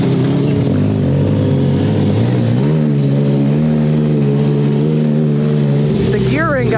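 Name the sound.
4x4 mini trophy truck engine driving on trails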